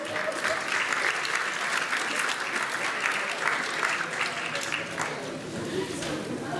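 Steady, dense applause from an audience at a charity Christmas concert, loud and close throughout with voices faintly mixed into the clapping.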